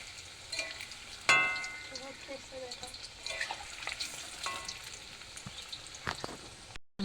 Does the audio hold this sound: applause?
no